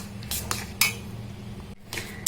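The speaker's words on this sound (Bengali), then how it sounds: "আমি ভালো করে সুজিটা নেড়ে চেড়ে করে নেব।" Semolina dough being stirred in a pan over a low flame, a few scraping and clinking strokes of a utensil against the cookware, close and moderately loud, with no talking.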